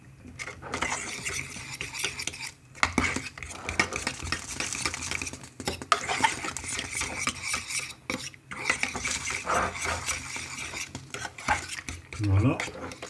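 A spinach and sausage mixture being stirred in a pan, with a spoon scraping and clinking against the metal in steady, repeated strokes close by, plus a faint sizzle underneath and no talking.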